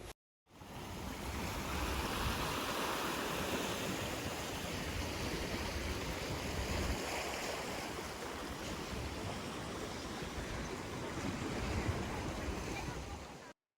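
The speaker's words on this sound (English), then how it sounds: "the blue water with the sound of the waves" Ocean waves at the Stanley Market viewpoint in Hong Kong make a steady, full wash of surf with wind, continuous and fairly even, with voices faintly under it.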